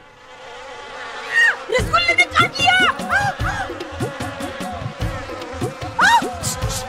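Bees buzzing loudly in a dense swarm, with many overlapping wavering drones rising and falling close by, heard alone without talk.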